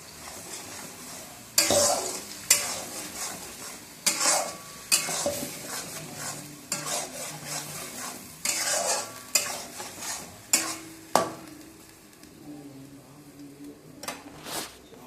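Onion paste for a Bengali pachforon chicken curry fries in a pan, with a steady low sizzle broken by repeated scraping stirs and occasional utensil clinks against the pan; no voices.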